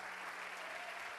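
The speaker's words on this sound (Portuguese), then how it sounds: "Aplauda o Senhor Jesus por isso." A church congregation applauds during a Portuguese sermon, a dense steady wash of clapping hands, fairly faint and distant, with a low hum underneath.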